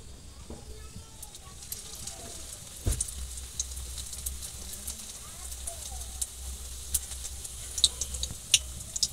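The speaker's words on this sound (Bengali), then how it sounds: "কড়াই গরম, তেল গরম হয়ে গেছে, এবার আমি দিয়ে দেবো এক এক করে।" Handmade fish cakes fry in a little hot oil in a pan, a low steady sizzle with sharp crackles and pops scattered throughout, growing busier toward the end.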